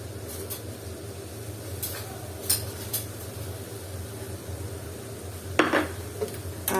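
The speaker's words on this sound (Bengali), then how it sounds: "আর এটাকে আবার একটু নেড়ে চেড়ে উল্টিয়ে পাল্টিয়ে দিলাম।" Shrimp with coriander leaves and green chilies is stirred and flipped in a pan, giving soft scrapes and light clinks of a utensil over a low, steady background.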